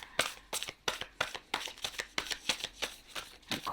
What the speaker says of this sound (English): They're hard to shuffle.